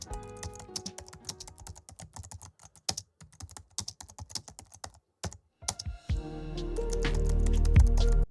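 Rapid, steady clatter of typing on a computer keyboard while writing Python Flask code, with uneven bursts and short pauses, ending in a louder low rumble.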